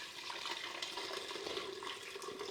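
Hot pea soup with onion, spinach and stock pours steadily into a Magimix blender, a continuous close liquid gush and splash with no talking.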